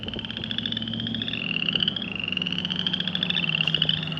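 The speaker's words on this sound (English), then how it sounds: "Those are frogs." Frogs croak in January along the Pinhoti Trail, a dense chorus of rapid, pulsing trills from several animals overlapping continuously, moderately loud and close with no voices.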